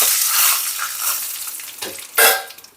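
Cumin and dry chillies sizzle in hot oil for a tempering meant for drumstick-leaf sambar, a close crackling hiss that swells in bursts as the spices are stirred, with no talking.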